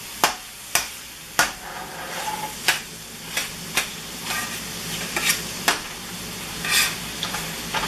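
Curried tofu cooking in an uncovered pot, a steady sizzle under sharp repeated scrapes and taps of a utensil against the pot, roughly one every half second to second.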